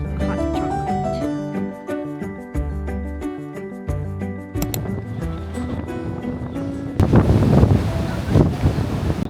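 Strong wind buffets the microphone on a Swiss lake cruise, a loud, rough roar that breaks in after several seconds of tonal music playing nearby.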